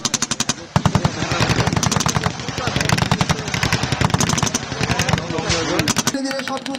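Tanks, armored personnel carriers and foot infantry fire together during a military exercise, producing loud, rapid bursts of machine-gun fire that hammer almost without pause, with a voice speaking over the din.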